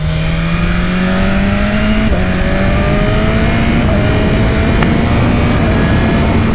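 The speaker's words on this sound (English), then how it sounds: "Just accelerating up there, keeping within legal speed limits near enough." A BMW S1000RR superbike accelerates hard on a road, its engine note climbing steadily in pitch, dropping briefly at a gear change, then rising again, loud and close throughout with no talking.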